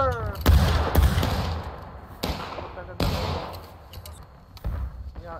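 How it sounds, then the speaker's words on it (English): Muskets fire in a War of Rights infantry battle, a loud ragged volley of overlapping blasts followed by scattered single shots, some close and some more distant, each with a booming echo. "Take aim. On the left oblique. Fire!"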